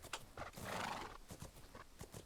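A horse in a horse-riding video game canters on a fast, rhythmic clip-clop of hooves, with a whinny partway through. It is heard alone and faintly, with no talking.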